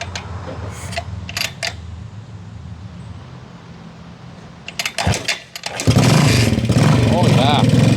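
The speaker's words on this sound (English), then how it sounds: "Billy's going to show us a cold start routine. Stone cold." A 1968 Harley-Davidson 250 Sprint single-cylinder motorcycle is cold started: kick and cranking sounds with clicks, then the engine catches and settles into a loud, steady, close idle, with a voice talking earlier.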